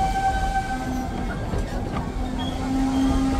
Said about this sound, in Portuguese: Estamos vendo aí o trem turístico aqui em